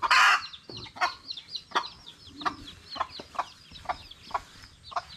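Hen clucks alongside peeping chicks tucked away inside a coop, a series of short sharp chirps and clucks in an irregular rhythm, fairly near, with one louder burst at the start.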